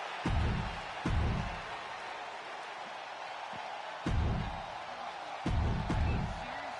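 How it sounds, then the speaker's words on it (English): Arena crowd at a Chicago wrestling event in the WWE 2K26 video game, a steady broadband roar with repeated low thumping swells, no one speaking over it. "just listen to this crowd here in Chicago"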